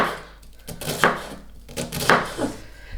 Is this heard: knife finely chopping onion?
yes